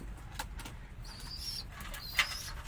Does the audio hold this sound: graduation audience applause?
no